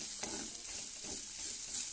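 Powdered neem leaves fry in oil in a pan while being stirred, a dense, steady hiss of sizzling with soft scraping strokes, close and continuous.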